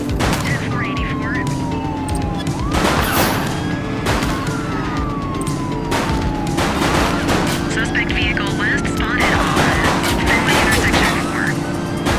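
A suspect fires a gun during a police chase in The Precinct, repeated loud gunshots cutting through the wail of police sirens and an engine drone, with voices heard over it.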